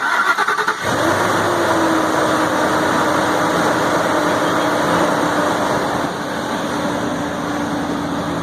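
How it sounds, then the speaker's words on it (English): A 2004 Ford F150 crew cab with the 5.4 3V V8 fires right up and settles into a loud, steady, close idle that runs unbroken throughout, with no talking. "it's the same as hitting the ignition switch, and it should fire right off"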